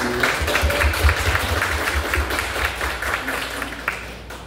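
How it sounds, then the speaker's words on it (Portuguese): An audience applauds a choir (the Luz Divina choir) at a seminar: a steady wash of many hands clapping, fairly loud and sustained throughout, with a faint voice mixed in. "Quero pedir uma salva de palmas para o coral do Luz Divina."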